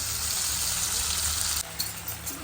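Tomatoes for raw mango chutney sizzling and frying over heat in a pan, a steady loud crackle that drops off sharply near the end, with occasional faint stirring.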